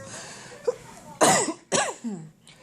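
A person recovering from massive pulmonary embolisms coughs several times in harsh, raspy bursts, close and loud, with a short throat-clearing sound before the main coughs.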